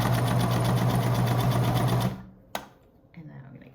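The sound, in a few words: sewing machine stitching silk fabric for a mask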